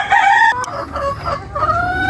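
Several chickens cluck nearby in a loud run of drawn-out, warbling calls with short pauses between them, and nobody talks.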